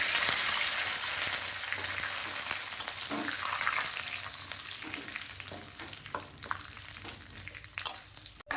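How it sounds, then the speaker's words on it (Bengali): Radhuni seeds, bay leaves and neem leaves frying in hot oil, a loud dense crackling sizzle that slowly eases, with a few stirring scrapes and a knock at the end, no voices. "তেল গরম হয়ে এসেছে। রাঁধুনি এবং তেজপাতা দিয়ে দিলাম। তার সাথে নিম পাতাও দিয়ে দিলাম।"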